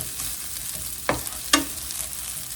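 Onions frying in marinade gravy for an Indian-style salmon fish fry, giving a steady soft sizzle with two sharp stirring scrapes close by and no talk.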